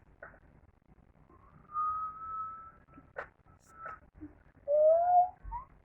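Child whistles to imitate an airplane, producing faint, breathy tones: a sustained wavering note, a few short chirps, then a brief rising-falling whistle near the end, with quiet background.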